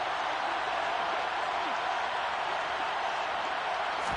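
A football stadium crowd roars ahead of a big third down, a steady, distant wash of cheering that holds at one level throughout.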